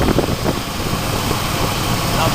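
A Chevy small block engine, with a faulty throttle position sensor, runs up in revs, a dense, loud, steady roar filling the whole span with little change, recorded close in a garage setting.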